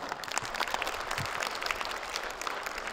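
Steady audience applause fills a hall at a creative tribute evening, dense continuous clapping from a large crowd, loud and close throughout with no voices over it.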